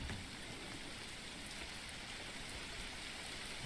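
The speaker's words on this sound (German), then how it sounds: "Und da regnet es schon wieder." Steady rain in the medieval city-building game Manor Lords, a dense, even hiss of drops pattering on surfaces that stays constant and fairly close throughout, with no talk over it.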